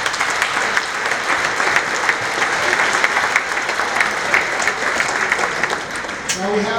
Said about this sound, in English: A round of applause for all of our sponsors.